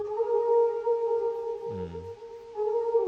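A low musical sample pitched an octave down, with steady sustained tones, broken midway by a brief deeper swell, playing alone without voices, for an ambient loop.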